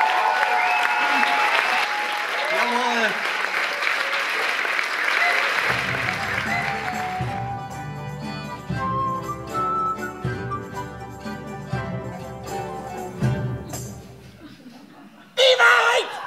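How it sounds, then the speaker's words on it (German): Festival audience applause for a prize winner, a broad clapping wash under a voice at the start, then thinning out as music and scattered sounds take over. "Einen Applaus bitte für Thorsten"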